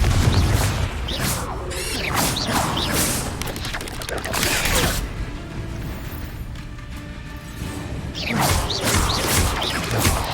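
Spell-casting effects from the Hogwarts Legacy video game come in a dense series of magical whooshes, bursts and crashing blasts, with short pauses between flurries.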